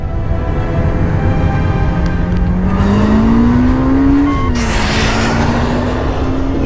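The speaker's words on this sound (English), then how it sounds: "Ferrari Testarossa. 5-liter engine. 60 miles an hour in under 6 seconds." Ferrari Testarossa sports car with a 5-liter engine accelerating hard, a loud close engine roar whose pitch climbs steadily, dips at a gear change, then climbs again, with no talk.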